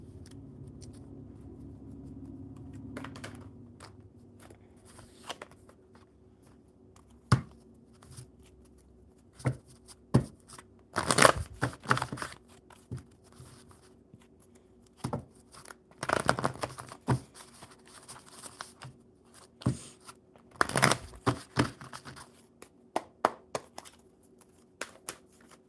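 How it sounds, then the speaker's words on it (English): Quiet, irregular papery flicks and riffles, with several sharper bursts of cards being shuffled, close by in an otherwise hushed room. "Let's finish shuffling these cards."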